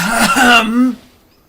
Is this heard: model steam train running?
no